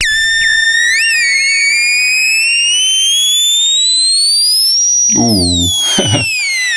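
Behringer TD3-MO synth run through delay and reverb pedals gives a loud, clean sine-like tone that glides steadily upward, with echoing repeats trailing behind, then drops into low, buzzing stuttered bursts near the end.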